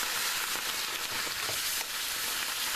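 Curried chickpeas sizzle steadily in a frying pan, a soft, even crackle and hiss throughout with no voices.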